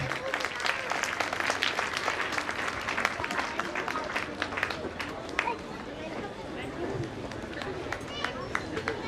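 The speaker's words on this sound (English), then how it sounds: "To clap for her" A school annual function audience applauds a prize winner, steady dense clapping filling the whole stretch with crowd noise and occasional voices mixed in.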